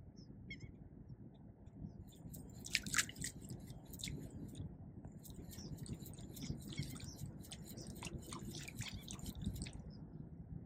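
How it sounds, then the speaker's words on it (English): A pencil popper fishing lure worked across open water with a walk-the-dog action, making repeated splashy, hissing bursts and knocking taps that come in uneven clusters over a steady background wash, with no talk. "A lot of splash. You can hear that knock"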